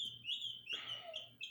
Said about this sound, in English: I think it's mating season for the birds.